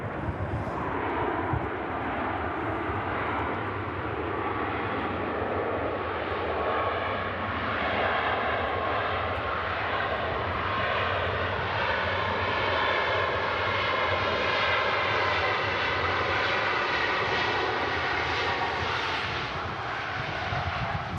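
A Ryanair airliner arrives and lands in gusty wind, its engines giving a steady, loud broadband roar with a slowly shifting whine that holds throughout without any speech.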